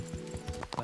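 Horse hooves clip-clop in short, quick strikes through a medieval town in Kingdom Come: Deliverance, close and fairly loud for under a second, with a faint whinny at the end.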